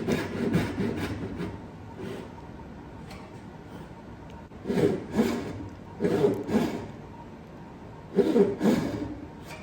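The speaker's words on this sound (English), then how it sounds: "should have been using a rip saw here, and I grabbed a crosscut saw." Crosscut hand saw cutting wood, worked in place of a rip saw down to a shoulder line: a few bursts of rasping strokes in separate groups with quiet gaps between, close and fairly loud.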